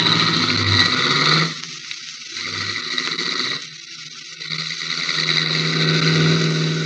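A car engine starting and driving off in a 1948 radio drama, loud revving and rumbling in uneven surges that dip and rise again over several seconds, with no voices.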